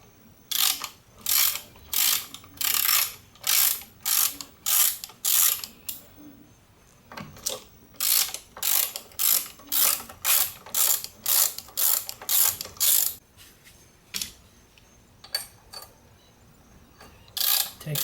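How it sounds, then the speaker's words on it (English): A 5/16 socket ratchet works the bolts on the aluminum valve cover of a Briggs and Stratton 550EX engine, giving close, crisp runs of rapid clicking in repeated bursts with short pauses between strokes. "You need a 5/16 socket to open the valve cover."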